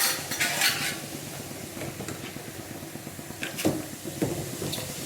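A few metallic clinks and scrapes as a tarnished silver plate is set down in a pan for cleaning, with faint clattering of cookware nearby.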